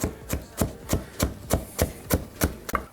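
A knife chopping and mincing jalapeno, onion and tomato on a board, about ten sharp even strokes in a steady rhythm at close range, with no talk.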